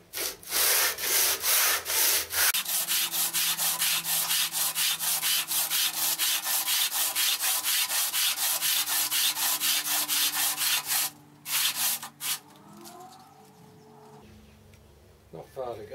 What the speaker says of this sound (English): the other side I'll hand scrape to get it flat